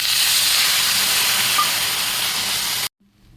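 Water poured into a hot pan of cauliflower curry with peas, tomato and green chili bursts into a loud, steady steam hiss that cuts off abruptly near the end.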